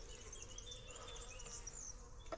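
Honeybees swarm over honey during extraction, robbing one another. A dense, continuous buzz of many insects sounds close, with wingbeats darting past and no voices.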